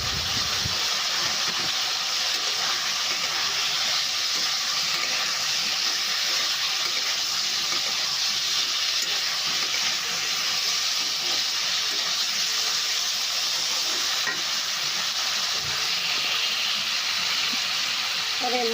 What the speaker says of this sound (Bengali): আর এর মধ্যে আমি জল দিলাম।